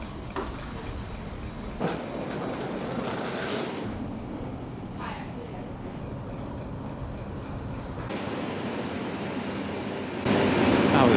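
A passenger train pulls into a station, its steady rolling rumble and rail clatter holding for the whole stretch with a brief clunk near the start and a louder surge toward the end.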